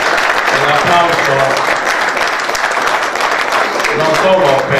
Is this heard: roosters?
no